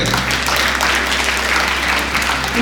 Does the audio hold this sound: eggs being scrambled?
no